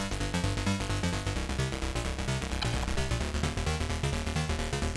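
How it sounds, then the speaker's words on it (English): Synth arpeggio running in a dense, steady electronic music mix, with rapid repeating notes layered over bass and beats, loud and continuous. "So we have this synth, for example. It sounds like this."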